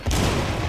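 Gunfire in the video game Rainbow Six Siege, a loud, close burst with a sharp onset followed by a sustained rumbling roar, no speech over it.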